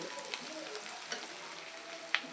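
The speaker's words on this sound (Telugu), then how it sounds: "ఇదిగోండి, ఉల్లిపాయలు బాగా ఫ్రై అయిపోయాయి." Onions frying in a pan before grated carrot and beetroot go in, a soft, even sizzle with a few light stirring clicks and one sharper tap near the end.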